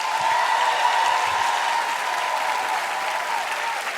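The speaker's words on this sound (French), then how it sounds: "je demande au public et aux téléspectateurs aussi d'applaudir chaleureusement Laurie et Nicolas" A television studio audience warmly applauds the show's guests, a thick, steady wash of clapping that holds evenly for several seconds with a faint tone running underneath.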